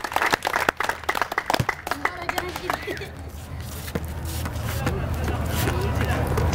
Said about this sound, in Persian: تشویق کنین دوستا، تشویق.